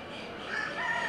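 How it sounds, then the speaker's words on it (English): Roosters crow over a steady din of clucking chickens at the 2015 Northeastern Poultry Congress show, a busy barn-like chorus with no pauses. "Chickens come in all shapes and sizes."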